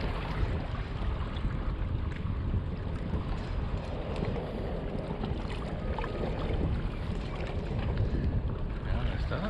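Ocean waves wash against a pier after rain on a February morning, a continuous rushing, churning roar with wind buffeting the microphone, close and steady with no talking.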